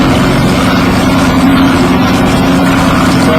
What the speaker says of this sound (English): So slow speed boat control is phenomenal.